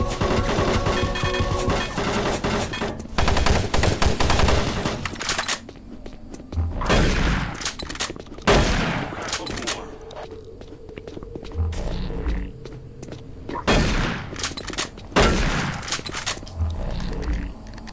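Rapid automatic gunfire from the video game Doom 3 fills the scene in loud sustained bursts, with several separate volleys and booming impacts between quieter stretches.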